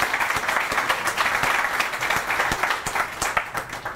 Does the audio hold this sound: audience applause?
yes